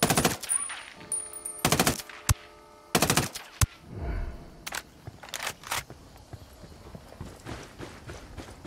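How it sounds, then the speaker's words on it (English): Gunfire in the video game Ghost Recon Wildlands: several loud, close bursts of rapid shots separated by brief pauses, with a few single sharp reports and some rumbling in between. "Opening fire on these shitheads."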